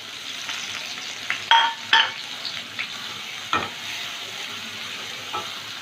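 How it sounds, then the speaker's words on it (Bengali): Chopped onions fry in a pan, giving a soft steady sizzle broken by a few sharp clinks and scrapes of a spatula stirring, close and moderately quiet with no talking. "এবার দুটো পেঁয়াজ কুচনো দিয়ে দিলাম"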